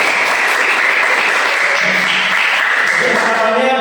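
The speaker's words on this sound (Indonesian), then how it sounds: "Tepuk tangan." A class applauds after group presentations, a loud, steady wash of clapping with faint voices and tonal sounds mixed in toward the end.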